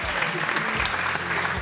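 Brief applause on an Italian chat show, a dense, steady burst of clapping from the audience lasting under two seconds.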